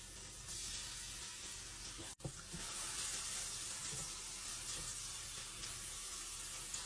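Chopped garlic sizzling steadily in a hot pan for a pork steak dish, a continuous close frying hiss with a brief drop in the middle before the sizzle resumes.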